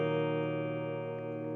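A PRS SE Santana Abraxas electric guitar played through distortion on its bridge pickup, one sustained chord ringing steadily at moderate level for about a second and a half, heavily effected with no one talking over it.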